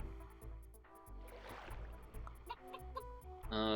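Short clucking of a cartoon chicken from the video game Super Auto Pets, a few quick bright game sound effects over a soft background with a chime at the end.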